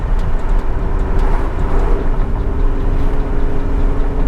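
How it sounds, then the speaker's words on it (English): A tuned Q50's exhaust gives a loud, steady engine roar with a low droning note after a downshift, sustained throughout at high revs with no pauses. "Obviously when you downshift, then you're gonna hear a lot more once the RPMs get up there."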